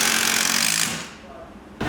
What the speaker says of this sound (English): drill bit broke. It must have been under intense pressure